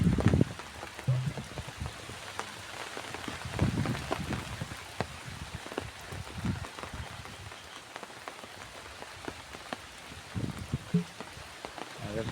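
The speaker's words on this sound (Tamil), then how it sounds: "மழை பெஞ்சிட்டே தான் இருக்கு. மழை விடாது போல்" Steady rain falls outdoors around a house, a constant patter with scattered louder drops striking nearby surfaces.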